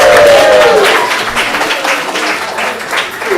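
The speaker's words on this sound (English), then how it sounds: "So big round of applause." Audience clapping at a synagogue Purim celebration after a costume contest, a brisk burst of applause from a room full of people, loud at first and tapering off, with faint crowd murmur.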